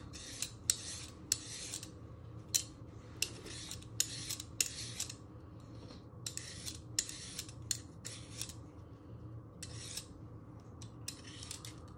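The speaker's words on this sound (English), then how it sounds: "with your peeler, you just want to peel all the skin" A hand peeler scrapes the skin off a vegetable for a winter soup in repeated short, rasping strokes, about a dozen bursts with brief pauses. It is close, crisp and alone, without speech.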